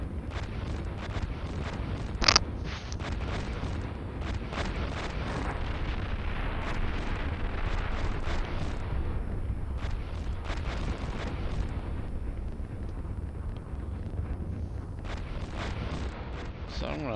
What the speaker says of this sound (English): There's the airstrike moves coming.